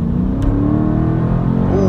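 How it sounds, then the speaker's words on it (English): A 2018 Dodge Challenger Scat Pack under full throttle, a loud, close, deep engine roar rising in pitch as the car accelerates hard. "I'm finna get on that gas full throttle."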